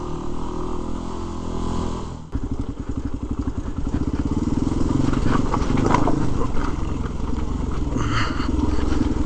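A Big Dog motorcycle rolling over a rocky road out West, its engine a steady loud drone with rhythmic clattering and thumping from the rough surface, a brief dip near the start, no talk.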